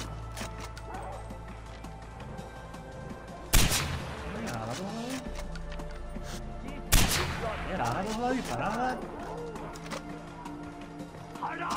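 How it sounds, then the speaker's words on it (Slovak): Anti-materiel sniper rifle shots ring out in Far Cry 4, two loud sharp blasts several seconds apart with long echoing tails, over game ambience and bursts of talk. "dáme si do ruky túto našu krásnu antimateriálu snajperku"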